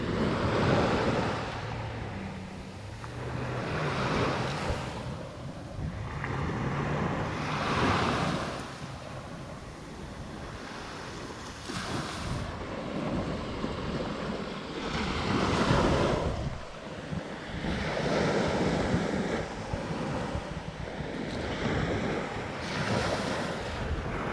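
Ocean surf rolls onto a coastline in repeated swelling wave crashes every few seconds, with steady wind rushing across the microphone throughout, loud and close, no voices.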